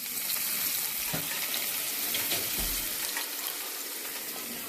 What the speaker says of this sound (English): Peppers and onions are in the pan.